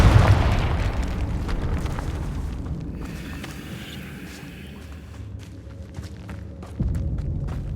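A Confringo fire spell detonating in the Hogwarts Legacy video game, a loud close boom that decays into a rumbling tail, followed by a second duller thump near the end.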